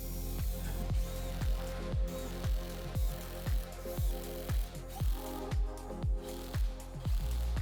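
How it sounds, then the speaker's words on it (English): A ratchet wrench tightens bolts on a motorcycle bag upgrade kit. It gives a close, steady series of about fourteen sharp clicking strokes in an even rhythm, with no voices. "Install the remaining bolts and tighten them accordingly."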